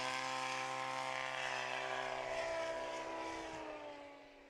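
A 330-horsepower STOL airplane engine revving up at a National STOL competition, a loud sustained propeller drone with rising tone that fades slightly at the end.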